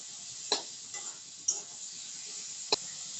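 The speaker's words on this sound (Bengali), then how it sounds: "রসুন যতক্ষণ না নাড়া হবে ততক্ষণ নাড়তেই থাকবে" Garlic frying in a pan is stirred, a quiet steady sizzle broken by a few sharp scrapes and clicks of the spoon against the pan.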